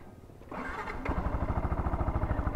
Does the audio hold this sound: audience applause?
no